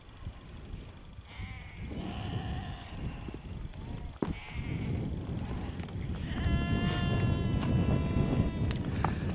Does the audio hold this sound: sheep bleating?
yes